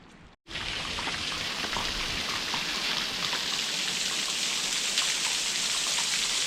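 A woodland waterfall runs full after heavy rain, a steady broad rushing hiss of falling water that holds constant after a brief dropout at the start.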